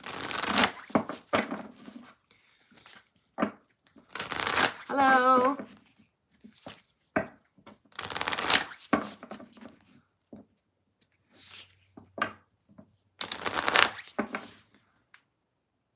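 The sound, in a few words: shuffling tarot cards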